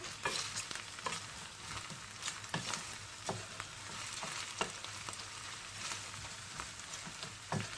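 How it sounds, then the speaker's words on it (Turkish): Pepper paste sizzles and fries in a pan while it is stirred, a steady close crackle with soft repeated scraping strokes throughout and no voices. "Hafifçe kavrulsun salçamız."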